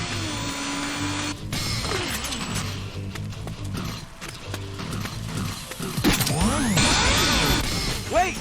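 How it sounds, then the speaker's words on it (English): Chainsaw Dash attack in the video game Lollipop Chainsaw: dense mechanical whirring and clanking with crashing impacts and swooping effects, loud and continuous, swelling toward the end. "It's called the Chainsaw Dash."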